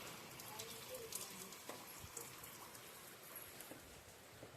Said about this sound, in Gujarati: વરસાદ પણ સવારનો ચાલુ છે, હજુ બંધ થતો નથી.